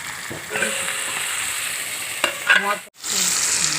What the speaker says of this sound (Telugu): పచ్చిమిరపకాయలు ఉల్లిపాయలు టమాటాలు వంకాయ ముక్కలు బాగా నూనెలో మగ్గిపోయింది కదండి